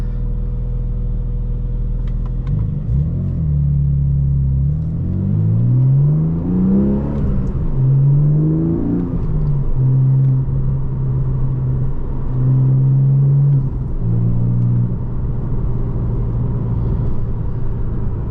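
A 2023 Porsche Boxster GTS 4.0 with manual gearbox driven on the road, its engine rumbling low then revving up through rising pitch sweeps and gear changes before settling into a steady cruise drone, heard close from the cabin.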